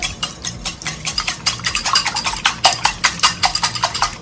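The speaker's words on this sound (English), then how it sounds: "I'm gonna give this egg a little bit of a whisk." Egg being whisked by hand in a bowl while making a Jamaican Easter bun, a fast run of close, even clinking strokes with a steady rhythm throughout and no talk.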